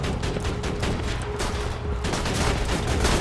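A deployed turret firing in the video game Borderlands 2, a dense, rapid stream of gunfire shots rattling steadily and loudly throughout, with no talking.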